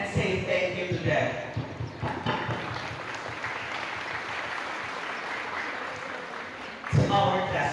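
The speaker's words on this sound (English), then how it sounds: "let's offer our big applause and say thank you to them" An audience at a graduation ceremony applauds with dense, sustained clapping that swells again near the end, with voices mixed into the crowd noise.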